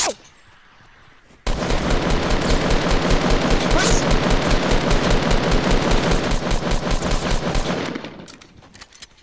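Rapid automatic gunfire in the Fortnite video game, a dense sustained burst of shots lasting several seconds, loud and close, after a quiet start, with no clear talk.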